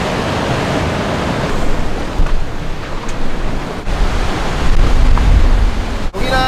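Sea waves surge onto rocks along the Geoje coast in Korea, a steady broadband wash of surf with rising swells and a sharp slap near the end, no voices present.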